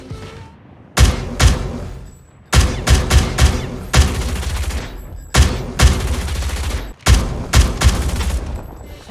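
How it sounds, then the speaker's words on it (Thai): Bursts of rapid gunfire from an OTs-9 in Call of Duty Mobile ring out in several clustered volleys with short pauses between, loud and punchy, crisp like video game weapon sounds, with no speech. "เดี๋ยวขอฟังเสียงปืนดิ"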